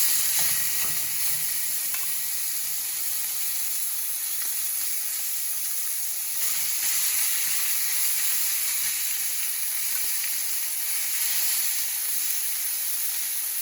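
Pork fries in a pan with a loud, steady, close sizzle and hiss that holds evenly throughout, with no voices.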